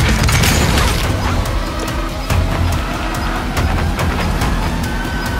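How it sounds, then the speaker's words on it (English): A suicide bomb explodes in the distance in Call of Duty Warzone, a dense, loud rumbling boom that rolls on throughout amid crackling and clattering battle noise. "suicide bomb has detonated in the distance."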